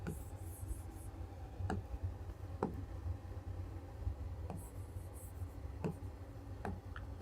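Marker or chalk scratching on a classroom board during a Class 9 maths lesson on linear equations in two variables, heard as sparse, faint taps and short strokes over a steady low hum.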